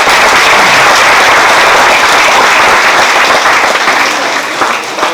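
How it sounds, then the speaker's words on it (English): Loud, dense applause from an audience at a felicitation programme for police officers, steady clapping filling most of five seconds before tapering off at the end. "Let's give them a big round of applause."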